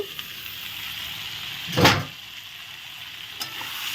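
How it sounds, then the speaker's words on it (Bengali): Mixed vegetables sizzle steadily in a pan while a spoon gives one loud stirring scrape midway and a faint clink near the end. "এখন সবজিটা আমি একটু ভালো করে নেড়ে দেব"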